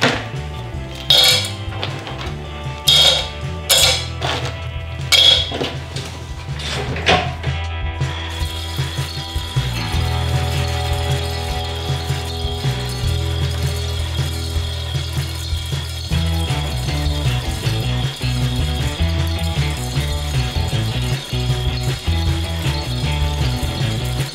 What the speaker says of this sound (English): It is just a 12-volt motor going through a 90-degree gearbox plugged into a 12-volt power supply.